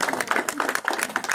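Audience clapping to welcome guests onto the stage at a new car unveiling, a brief burst of steady mid-volume applause from a crowd.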